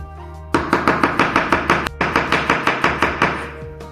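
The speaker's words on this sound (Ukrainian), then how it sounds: "Радис поріжемо на півкольця" A knife chops radish into half-rings on a board, about fifteen crisp, evenly spaced strokes in a quick steady rhythm, close and alone.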